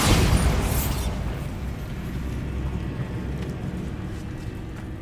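A Bombarda spell explosion in Hogwarts Legacy, a loud, close deep boom that opens the moment and then fades into a long rumbling tail of debris, with no voices.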